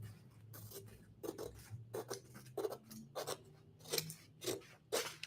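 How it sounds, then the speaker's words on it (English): Scissors snip through decoupage paper to cut out a shape, making about a dozen crisp, close cuts in an uneven rhythm against a quiet background, with no speech. "to go ahead and cut the shape out now"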